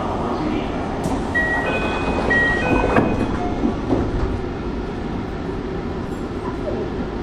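A Tsukuba Express rapid train runs along the line, its steady loud interior rumble and rail noise continuing throughout with faint clicks and brief higher tones from the track.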